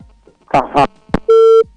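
Telephone call-in line after a dropped caller: a short burst of speech-like noise, then a sharp click and one steady electronic tone held for about a third of a second, fairly loud.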